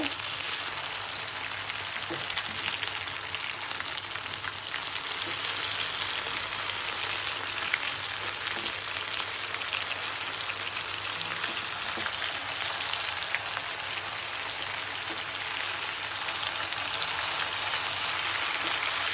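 Pieces of beef chaap fry in a pan with a long, even sizzle and fine crackling that holds steady throughout, with no one talking.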